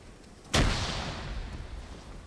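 A sudden loud explosive boom with a long rolling tail of rumble and debris noise, heard alone amid the din of a large 150-player one-life PvP shooter match.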